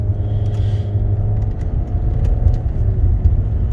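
Steady low road rumble and engine drone inside a rental car cruising in Sosúa, Dominican Republic, loud and continuous with no talk.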